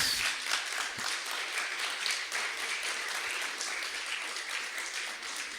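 A church congregation applauds during a Christian sermon, a continuous, fairly soft wash of many hands clapping that holds steady throughout with no voices over it.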